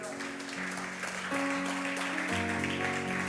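A standing church congregation applauds, a steady faint wash of clapping mixed with sustained keyboard chords in the background.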